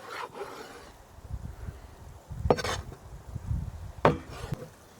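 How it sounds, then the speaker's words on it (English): A large wide-bladed knife chops canned beef outdoors in the mountains, giving two sharp, separate thwacks with soft rubbing and scraping between them. "My large knife with a wide blade was perfect for both cutting and chopping."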